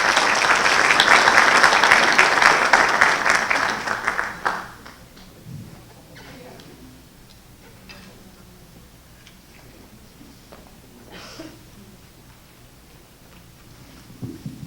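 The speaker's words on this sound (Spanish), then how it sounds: "Pido un fuerte aplauso para el doctor Rubén Pacheco Inclán" Seminar audience applauding a speaker at an international legal seminar in Mexico City, a dense roar of clapping for about four seconds that quickly dies away to a quiet room with faint scattered sounds.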